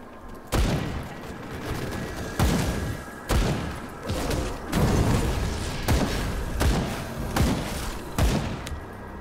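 Repeated heavy shotgun blasts from the medieval-Victorian action RPG Grim Dawn, loud and close, roughly a shot every second or two over a constant din of game combat noise, with zombies in the fray.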